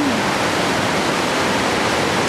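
A waterfall at the Sangngawan Hot Spring Resort pours with a dense, constant roar, loud and close, filling the whole stretch without any talk.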